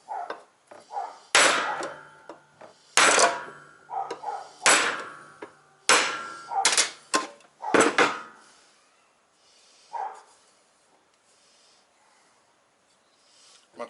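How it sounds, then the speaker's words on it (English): A hammer strikes a drift to knock out a ding on a fairly solid surface, giving about eight sharp, close metallic blows at an irregular pace, with quiet gaps and a few fainter knocks. "Just a drift and a hammer."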